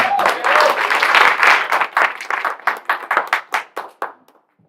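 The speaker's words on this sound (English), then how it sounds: "How about another round of applause?" Audience applause at a Caribbean community talent event, a dense burst of many hands clapping that thins into scattered, individual claps and dies away after about four seconds, with no talk over it.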